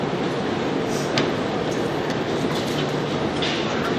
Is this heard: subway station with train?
yes